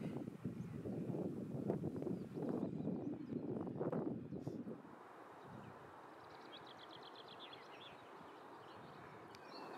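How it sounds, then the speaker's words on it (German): Waterfalls in rural Norway make a steady broadband rushing that is louder and fuller at first, then settles into a quieter continuous hiss, with no traffic or other noise around. "Das Rauschen, was man hört, sind die Wasserfälle."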